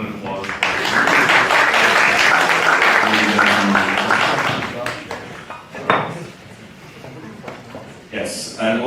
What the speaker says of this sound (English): and also an applause